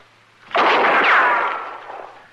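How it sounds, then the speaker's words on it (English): A single rifle shot cracks loudly and close, followed by a long, fading roar of echo, alone with no talk. "She's aiming that rifle at me, Chester."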